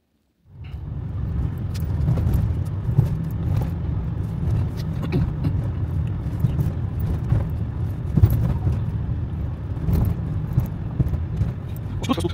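A car drives steadily through an old rural village in Ukraine. The low engine and road rumble carries on without a break, with a few soft knocks and rattles from the cabin over the bumps.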